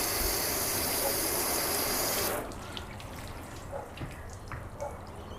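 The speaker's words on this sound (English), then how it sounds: "the water is just sheeting straight off with the Beadmaker side" Water spraying and sheeting off a car panel coated with spray sealant, a loud steady hiss that cuts off abruptly, leaving faint drips and trickles.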